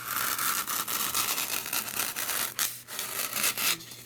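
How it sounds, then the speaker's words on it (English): Material is being cut at an angle for a tin bucket candle centerpiece, a close, continuous rasping, sawing scrape with rapid back-and-forth strokes and a couple of brief pauses. "I'm cutting it in so it's angled"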